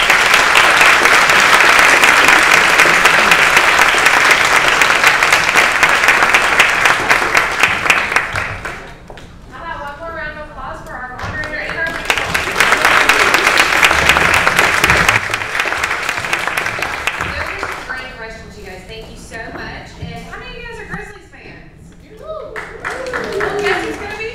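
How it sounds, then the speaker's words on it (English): Sustained applause from a meeting audience for a panel at a public relations chapter gathering: loud dense clapping for about nine seconds, then softer clapping under talking, a second loud burst, and fading clapping mixed with voices. "Let's have a round of applause for our panel"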